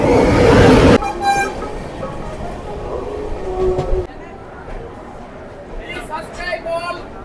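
A Santragachi car-set train overtakes on the adjacent line as the other train waits on a loop line, a loud horn blaring first, then a sustained rumbling roar of passing coaches that gradually eases, with fainter horn notes near the end.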